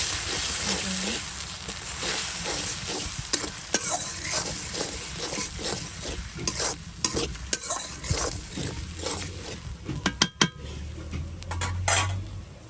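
Ginger and garlic fry in a pan for a curry, a continuous sizzle broken by repeated scraping strokes of a metal spoon and sharp clinks against the pan, close and fairly loud.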